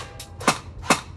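An airsoft gas pistol fires BBs in three sharp, close pops about a third of a second apart, each with a short hissing tail.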